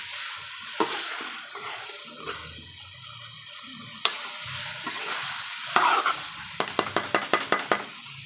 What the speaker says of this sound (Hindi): अब सब्ज़ी को अच्छे तरीके से हम मिक्स करेंगे।